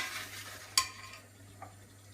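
Chicken karahi curry cooks in a pan with a soft, low sizzle, punctuated by one sharp utensil clink and a fainter tap later, close and quiet without speech.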